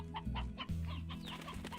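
Chickens in the video game Slime Rancher clucking softly, a few quick bird calls over a low steady game music drone, brief and faint.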